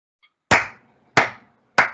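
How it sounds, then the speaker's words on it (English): Hand clapping from students in a drumming lesson: three sharp, crisp claps spaced evenly, each ringing briefly in the room before quiet returns. "Just clap."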